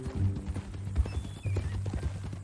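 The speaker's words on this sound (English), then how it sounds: "That a new horse?" A horse's hooves clip-clop steadily in the Red Dead Redemption 2 video game, a rhythmic walking beat over a dense low rumble of ambient game sound.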